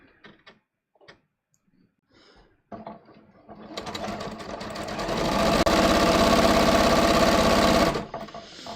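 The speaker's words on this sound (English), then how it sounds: "let me just sew this one" A sewing machine stitching strippy fabric starts up after a few faint handling clicks, then runs with a loud, steady mechanical whir and rapid needle chatter for several seconds before stopping abruptly.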